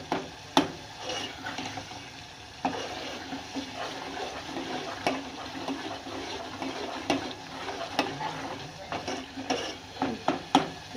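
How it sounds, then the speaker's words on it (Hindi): Tomatoes roasting and being pressed down in a pan over a high stove flame, giving a steady sizzling hiss broken by scraping and tapping clicks, fairly close and moderate in level, with no talk. "इसको मैं भून लेती हूँ चूल्हे की आंच तेज करके"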